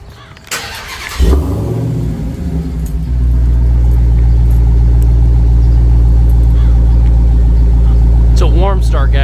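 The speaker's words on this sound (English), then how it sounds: "Big Hellcat Red Key, cold start." A 2022 Dodge Challenger SRT Hellcat Red Key, already warmed up, cranks briefly and fires into a loud, deep, rumbling idle that holds steady. There is a quick blip near the end, and rain falls outdoors.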